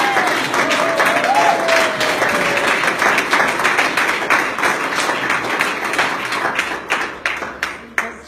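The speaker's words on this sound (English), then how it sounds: "if we could all have a round of applause for Dr." Sustained audience applause greets Dr. Rudy, MBE at the opening of a solar exhibition at the National Gallery, steady dense clapping in a large room that gradually thins out and fades toward the end.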